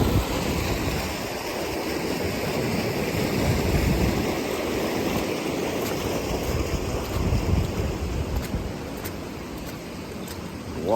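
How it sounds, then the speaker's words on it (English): Rainwater running fast along a road during heavy rain in Knott County, Kentucky, a continuous rushing wash of water mixed with wind buffeting the microphone, steady and fairly loud throughout. "Water's running pretty fast right along here too."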